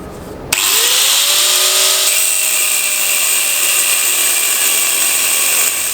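A power tool cuts through the exhaust pipe of a Dongfeng Xiaokang K07S during a repair. It starts abruptly after a half-second pause and then holds a loud, steady, high whine close by.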